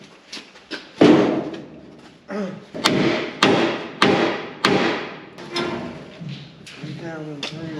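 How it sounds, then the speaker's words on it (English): Heavy hammer blows on the steel frame of a 1954 Chevy 3100 pickup, a run of about eight loud, ringing metallic strikes spaced roughly half a second to a second apart, close up, with some voices in between. "Get a hammer and pry bar"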